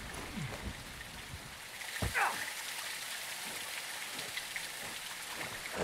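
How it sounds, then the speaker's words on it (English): Heavy rain pours down in Call of Duty Modern Warfare II, a dense and steady hiss of drops that fills the whole scene without pause, with a brief swell of noise in the middle. "It's raining fucking hard."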